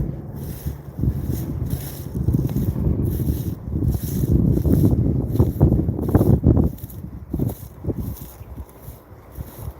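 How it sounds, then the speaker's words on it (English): Light wind of about 5 to 10 outdoors during a bike ride in America, a steady rushing buffet across the microphone that swells and fades over several seconds. "Wind still got a bit. It's 5 or 10 though. It's light."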